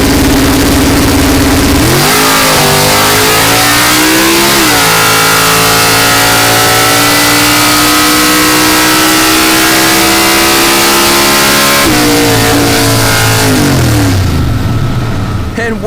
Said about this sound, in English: remember to watch Dan's hand release the trans brake to launch the car